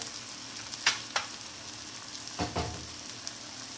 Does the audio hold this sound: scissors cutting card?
no